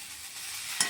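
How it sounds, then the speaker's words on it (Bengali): Cauliflower frying in a pan with chopped tomato, giving a soft, steady sizzle and a quick stir scrape near the end. "আর ফুলকপিটা প্রায় ভাজা হয়েই এসেছে"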